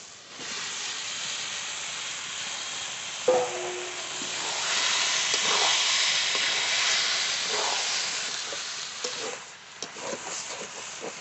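Spices and boiled green jackfruit sizzle and hiss steadily in hot oil in a pan, with a soft stirring clatter and occasional scrape rising above the continuous frying noise.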